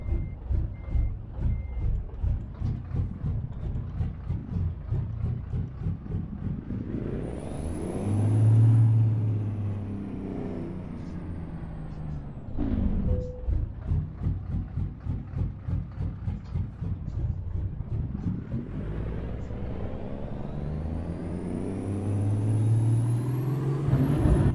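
A custom Peterbilt truck engine in American Truck Simulator revs up and down in long rising and falling sweeps, loud and close, with a rapid pulsing beat and brief hissing bursts.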